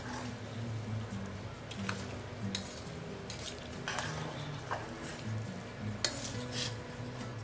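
Cooked tapioca and beef are stirred with onion and curry leaves in oil in a pan, giving repeated scraping and clinking of a spoon against metal at a moderate, close level, with no talking.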